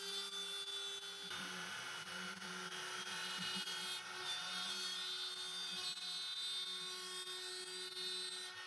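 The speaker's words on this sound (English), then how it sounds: "In my case, this is a long mill CNC machine." CNC milling machine cutting, a steady, fairly faint mechanical drone with a sustained whine and fluttering low rumble running unbroken throughout, no voices.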